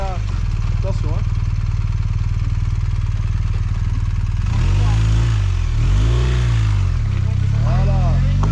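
A trail motorcycle at an Ultra rando Trail 2023 outing idles steadily, then revs up in several loud rising-and-falling bursts, close by.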